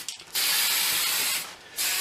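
Two sustained hissing bursts from a spray paint can coating a Leopard 2A6 tank scale model, close and loud, the first about a second long and the second starting shortly after a brief pause.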